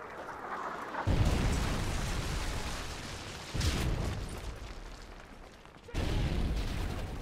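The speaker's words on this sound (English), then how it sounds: "Friendly Predator missile inbound." Predator missile strikes in the Modern Warfare 3 Bakaara map, heard as three heavy booming explosions spaced a few seconds apart, each a loud rumbling blast that slowly decays.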